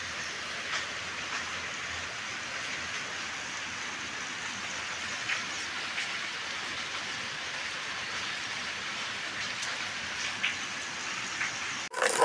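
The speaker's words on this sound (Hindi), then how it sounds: "बहुत तेज़ बारिश लगी हुई है।" Heavy rain pours down in a dense, steady hiss, with occasional louder drips and splashes, continuing unbroken until a sudden thump at the end.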